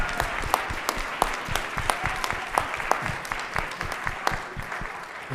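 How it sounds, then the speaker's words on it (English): Audience applause at a healthcare conference session, steady dense clapping from a seated crowd with a few sharper individual claps standing out, sustained evenly throughout. "Can we give her a round of applause?"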